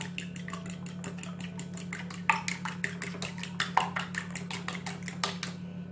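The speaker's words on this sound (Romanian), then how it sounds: "Așa, batem ouăle." Eggs being beaten in a bowl with a fork or whisk, a quick run of clinking taps against the dish over a steady low hum, close and fairly quiet.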